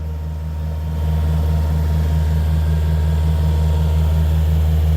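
A motor runs steadily with a loud, low droning hum and a strong, even tone that holds for the whole stretch, rising slightly in level after the first second.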